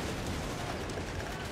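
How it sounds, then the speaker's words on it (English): Calliope rockets fire in Company of Heroes 3, with dense rumbling barrage noise and overlapping blasts filling the whole moment at a steady loud level, and battle din throughout. "Double Calliopes, are you serious? All right, well, the rockets are firing"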